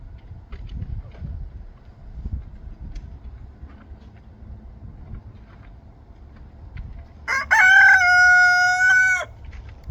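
A young rooster on a farm gives one loud, close crow lasting about two seconds, rising out of a quiet background of faint low rumble and soft clucks.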